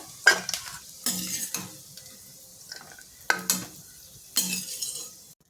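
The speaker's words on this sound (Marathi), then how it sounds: "तुपात छान भाजले की ते आपल्याला काढून घ्यायचे" Raisins frying in ghee for sabudana fasting kheer, with distinct spatula stirs and scrapes against the pan in separate bursts over a soft sizzle, each stroke sharp and close.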